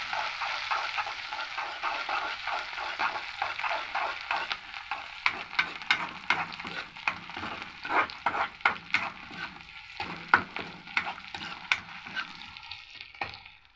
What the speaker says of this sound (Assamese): জলকীয়াটো অলপ লৰাই দিছোঁ।